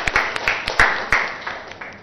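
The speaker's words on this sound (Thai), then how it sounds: "ปรบมือให้เพื่อนหน่อย" Sparse clapping from a small group of Thai primary school pupils in a classroom, applauding a classmate: a few separate, uneven claps that thin out and fade quickly.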